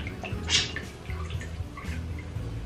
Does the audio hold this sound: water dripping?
yes